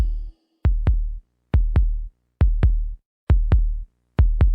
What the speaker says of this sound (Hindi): और अब मैं अपने दिल की धड़कन सुन सकती हूँ।